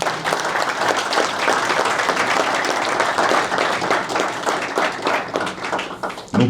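Audience applause at a committee installation ceremony in Kongo Central, a dense, sustained clapping from a crowd filling the room, steady and loud throughout with no voices over it.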